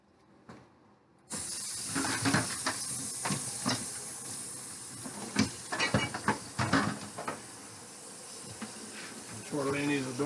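Tortellini boiling in a pot of water, a steady close hiss of rolling boil with bubbling pops and clinks scattered throughout, and a brief voice near the end.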